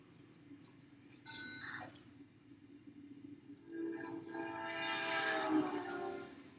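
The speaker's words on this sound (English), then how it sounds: "Now, listen to the train's horn." A train horn blares in Amsterdam, New York, as the train passes: a brief honk early on, then a long, loud sustained blast that swells and shifts pitch as it goes by, over steady rumble with no talk.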